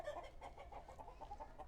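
Barnyard chickens cluck softly in a short, faint burst of rhythmic low clucks and murmurs, with no talking.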